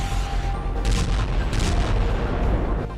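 Explosions and gunfire in the Ukraine war zone, with rockets and mortars: a dull rumbling boom background with several sharp bursts of distant shots, continuous and fairly loud.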